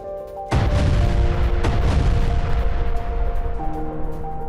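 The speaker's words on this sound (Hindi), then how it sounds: "नाखुरा, हेनन समेत 4 इलाकों में शेलिंग की यह तस्वीर देखिए" Heavy artillery shelling in Lebanon: a loud sudden blast followed by a second boom a second later, each trailing into a rolling, rumbling echo over a steady low background hum.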